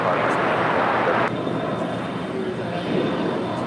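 A jet airliner takes off from runway 25 Right at LAX, its engines giving a broad, roaring rush. The roar is loud at first and eases after about a second, with voices talking over it.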